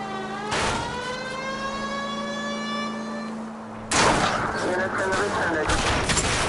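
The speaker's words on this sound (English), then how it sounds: "I'll try to shoot out his tires." In L.A. Noire, shots are fired at a fleeing car's tires: a steady engine-like drone gives way to a loud, dense burst of gunfire and crackling impacts that carries on to the end.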